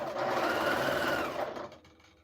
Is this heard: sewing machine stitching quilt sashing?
yes